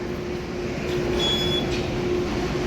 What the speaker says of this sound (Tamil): இது அடுத்த மோட் ஆஃப் டிரான்ஸ்போர்ட்னு சொல்லக்கூடிய லைட் ரயில்